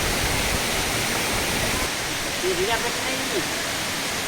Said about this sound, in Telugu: ఎత్తైన పెద్ద బండల మధ్య నుంచి జలపాతం వేగంగా కిందకు పడుతుంటుంది